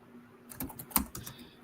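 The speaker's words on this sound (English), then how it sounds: "I hear you typing, but I don't hear you speaking." Quick keystrokes on a computer keyboard during an online call, a short cluster of soft clicks with one sharper tap, fairly close and quiet, no voice.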